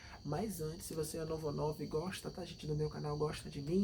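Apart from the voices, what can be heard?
crickets chirping in rainy weather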